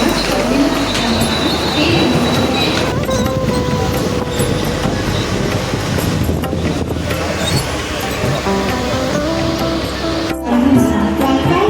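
A Mumbai fast commuter train from Dombivli rumbles steadily along with continuous rolling wheel noise and rattling carriages, loud and close, with muffled voices underneath.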